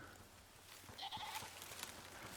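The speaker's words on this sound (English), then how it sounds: "Those are the 2 goats." A couple of faint, distant goat bleats in the video game Icarus sound briefly over a quiet, hissy background.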